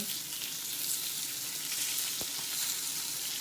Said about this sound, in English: I'm sauteing some fresh spinach.